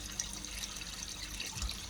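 Water spilling from a water blade into a patio pond beside a bog garden: a soft, steady trickle with light splashing and occasional drip accents, quiet and close, with no voices.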